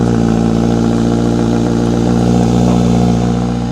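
A Honda CBR1000RR-R SP motorcycle engine idles loud and close with a deep, steady, throbbing note, unchanging and alone.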